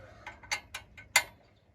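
Bolts on a Granburg Alaskan chainsaw mill get tightened by hand, producing a handful of sharp metallic ticks and clicks at an uneven pace, close and fairly quiet, with one louder clank near the end.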